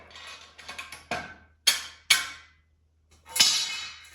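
A solar panel mount is bolted onto a plate, giving a series of sharp metallic clicks and clanks in uneven bursts, some ringing briefly, close up with quiet gaps between.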